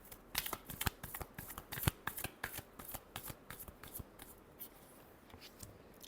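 Tarot cards are shuffled by hand close up in a quick run of crisp riffling flicks that gradually soften and thin out, faint and without talk.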